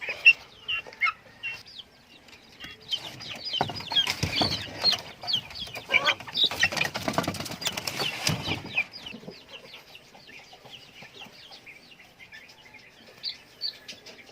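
Native chickens cluck and chatter at close range in a backyard, with repeated short calls, a busier stretch of flapping and rustling in the middle, then sparser clucks as it settles.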